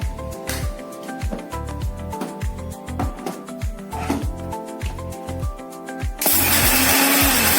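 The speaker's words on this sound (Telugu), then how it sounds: "మిక్సీకి వేయాలి" A mixer grinder grinding curry leaf powder runs loudly in pulsing bursts, then settles into a steady, harsh whir near the end; no one speaks.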